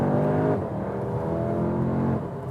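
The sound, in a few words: Audi S3 Sportback accelerating out of a corner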